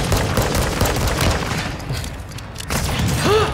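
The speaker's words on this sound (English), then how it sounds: "I got sniped again!" Gunfire in the video game Modern Warfare 3 Warzone, including a sniper rifle shot: loud, heavy booming blasts fill the scene, followed by a short lull and another burst near the end.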